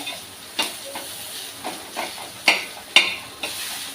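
Soft steamed brinjal being mashed into onions in a pan, with a series of short, sharp pressing and scraping strokes spaced about half a second apart over a faint sizzle. The strokes are close and there is no talking.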